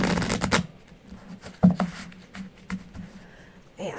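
Tarot cards shuffled in bursts of soft riffling and rubbing, louder at the start and then in shorter quiet flurries, close by with no talking.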